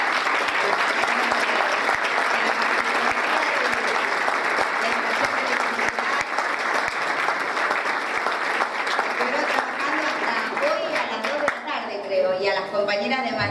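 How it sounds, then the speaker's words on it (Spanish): Audience applauding construction workers at a newly finished building, a dense, steady wash of clapping lasting over ten seconds before a voice begins speaking near the end. "Así que le pido un aplauso a los compañeros de obra."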